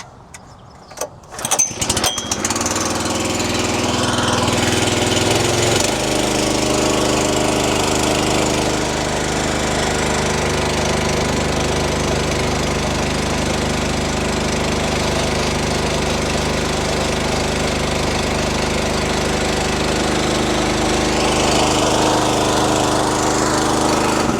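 Small engine on a trailer-mounted water tank sprayer starting up, then idling steadily and loudly nearby with a constant drone for over twenty seconds.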